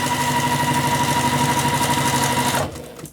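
A sewing machine stitches steadily around an origami tote bag, its rapid even chatter running loud and close before cutting off abruptly near the end.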